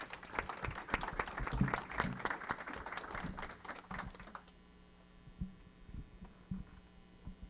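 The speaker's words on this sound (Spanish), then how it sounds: "Nuevamente un fuerte aplauso para ella, por favor." Applause at an institutional report presentation, a crowd clapping steadily for a few seconds before fading out to a quiet room hum with a few scattered, isolated claps.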